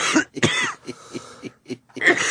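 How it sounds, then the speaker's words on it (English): Harsh, dry coughs and throat-clearing come in a quick series of raspy bursts, close and loud, with short pauses between. "The cough at this point is that dry,"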